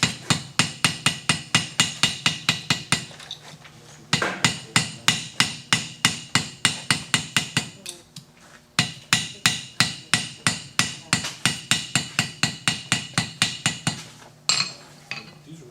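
Welder's hammers strike metal in fast, steady rhythmic bursts of sharp ringing blows, loud and close, with brief pauses between runs.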